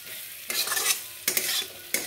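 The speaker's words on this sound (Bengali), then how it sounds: "এবার পোস্তটা দিয়ে একটু নেড়ে নেব" A spoon stirs poppy seeds into a spiced potato curry frying in oil, three close scraping strokes over a faint background sizzle.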